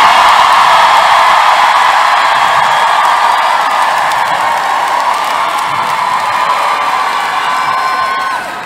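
A large crowd at Wine Press 2023 in Lagos, Nigeria cheers loudly and steadily, a dense wall of shouts and whoops that holds for several seconds before tapering slightly at the end.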